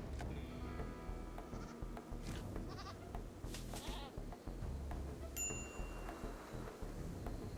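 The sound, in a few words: sheep bleating in the video game RimWorld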